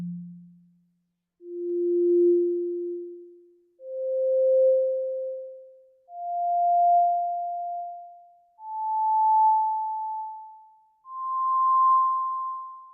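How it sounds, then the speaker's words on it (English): A series of pure, steady tones, six in turn, each held about two seconds and stepping upward in pitch with brief gaps between them. "you can kind of hear what the harmonic series sounds like for a note."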